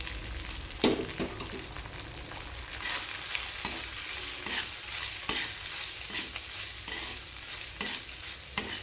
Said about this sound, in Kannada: ಈ ರೀತಿಯಲ್ಲಿ ಚೆನ್ನಾಗಿ ಫ್ರೈ ಮಾಡ್ಕೋಬೇಕು